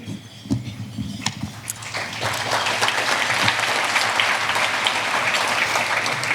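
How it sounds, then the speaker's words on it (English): Audience applause at an Eagle Forum of Alabama gathering, starting as scattered individual claps and building after a couple of seconds into full, steady clapping from the crowd. "Thank you for that applause."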